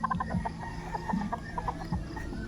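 Chabo chickens clucking up close, a quick series of short, throaty clucks in uneven bursts over a soft background, with no talking.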